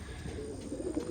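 Racing pigeons in a loft give low, soft cooing calls, steady and close, over a faint background hum.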